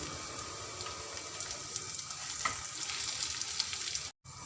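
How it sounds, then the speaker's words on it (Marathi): Steady sizzling and crackling of onion sautéing in a pan, close by, with a faint stir partway through and no talking. "थोडासा हलकासा असा परतून घ्यायचा कांदा"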